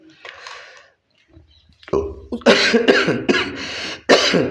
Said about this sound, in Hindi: अभी भी खांसी आ रही है